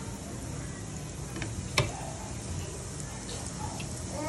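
Garlic sizzles in hot oil in a pan for a Pepsi-based shrimp recipe, giving a steady crackling hiss with a brief clatter of stirring midway.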